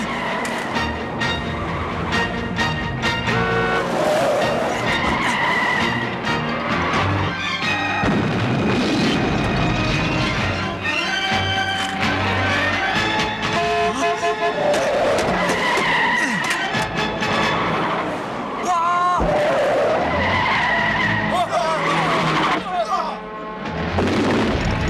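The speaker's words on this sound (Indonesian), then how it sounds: "Pisotin kabur menggunakan sepatu roda, sedangkan Taeying menggunakan mobil. Dan adegan kejar-kejaran seru pun terjadi." Cartoon car chase with tires skidding and screeching, mixed with engine rushes, booms and busy background music, loud and continuous with repeated bursts of action throughout.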